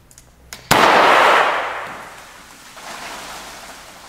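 Confetti cannon fired with an ignition box: a few faint clicks, then a single sharp loud bang followed by a hissing rush of confetti that fades into a quieter lingering hiss.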